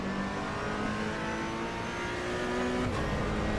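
A Ferrari GT3 race car driving at speed in Assetto Corsa Evo, its engine a loud, continuous high-revving whine with a brief shift near the end, heard alone and close.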